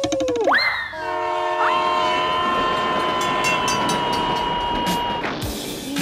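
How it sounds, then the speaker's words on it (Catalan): A train pulls away with a loud horn blast and a long sustained whistle over rumbling, clattering wheels, played as a sound effect on a Catalan radio show. "De viatge a la via, agafar el tren."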